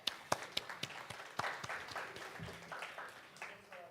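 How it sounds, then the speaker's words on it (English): A live audience at a marketing conference in Dubai claps in a short burst of applause, scattered sharp claps building into a dense patter that tapers off over a few seconds. "I want to applaud you really quick."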